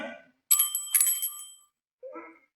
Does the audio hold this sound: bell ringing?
yes